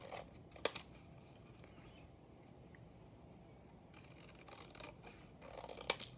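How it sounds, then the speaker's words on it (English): Scissors snipping paper scraps for small junk journal booklet covers: a few quiet, crisp cuts spaced apart in a hushed room, with no one talking. "I want to cut it just a bit shorter than that"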